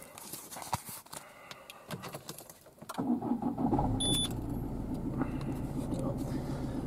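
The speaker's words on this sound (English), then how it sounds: "I'm gonna start the car again." A 2006 Peugeot 207 1.4 HDI diesel is started: the starter cranks briefly, then the engine catches and settles into a steady, close idle hum that continues to the end.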